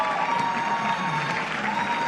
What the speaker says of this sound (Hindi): जीतने वाली टीम के लिए बहुत सारी तालियां होनी चाहिए मेरे तो इस्लामाबाद यूनाइटेड के लिए